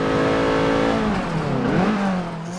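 Race car engine in Forza Motorsport 7 held at high revs, a loud steady whine that dips and climbs again as the throttle stays heavily pressed, with no talk.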